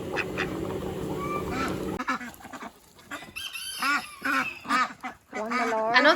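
Mallard ducks call with a run of nasal quacks and honks in the second half, close and fairly loud, following a stretch of steady noise and mixed with people talking.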